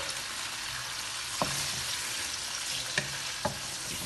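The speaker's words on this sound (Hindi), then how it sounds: "ये हम इसमें डाल देंगे और इसको फ्राई करेंगे।" Boneless chicken, about 400 grams, sizzles steadily in a pan for a butter chicken handi, a constant frying hiss with a few sharp clinks of a utensil against the pan.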